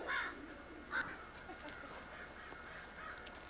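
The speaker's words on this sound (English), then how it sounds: "up in the tree getting hassled by the crows" Crows calling from a tree at a campsite, a few faint, distant caws spaced apart over a low steady background hum, with no talk.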